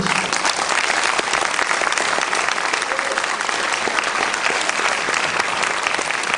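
Loud, sustained applause from a large audience at a film festival Q&A in New York, dense clapping filling the room evenly from start to finish.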